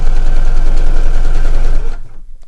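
A sewing machine stitches a fleece zip pouch, running steadily and loudly at close range for about two seconds before stopping abruptly.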